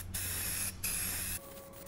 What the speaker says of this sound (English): When you spray it on, it looks kinda weird, almost brownish.